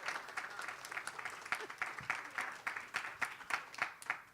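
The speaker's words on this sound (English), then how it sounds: "Alexis, a round of applause" An audience at a startup awards pitch event gives a round of applause, moderate and fairly even clapping from a room of people, with a few louder claps rising near the end.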